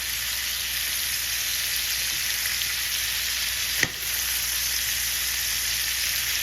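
Beef short ribs sear in oil in a non-stick pan with a loud, constant sizzle. A single sharp knock sounds partway through, probably as a rib is turned, and then the frying carries on steadily.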